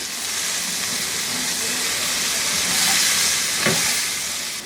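Drumstick pieces fry in oil in a pan, a loud continuous hissing sizzle that swells slightly toward the middle with one sharp spit of oil near the end.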